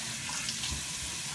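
Tap water running steadily into a sink, a continuous close hiss of flowing water with no voices.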